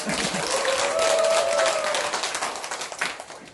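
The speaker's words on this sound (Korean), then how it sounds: "박수 한번 쳐주세요" Audience applause at an Atomy business seminar, a dense, steady wash of many hands clapping that fills the room for several seconds, with a faint sustained tone running through the middle and tapering slightly toward the end.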